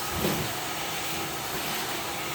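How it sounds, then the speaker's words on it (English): A portable carpet extractor steam cleaning carpet, giving a steady, close broadband hiss and rushing wash with a slight low rumble throughout, no voices. "So as I come back, I'm extracting the carpet as a steam clean."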